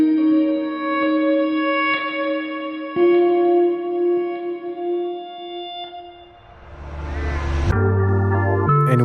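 Fender Jazzmaster guitar melodies played in reverse, washed in heavy reverb and delay, swelling as sustained tones with a rising noisy wash before deeper bass notes enter near the end, no voices.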